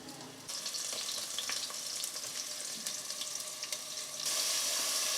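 Crushed garlic and sliced onion fry in hot oil with a continuous crackling sizzle that swells louder near the end, with faint stirring sounds.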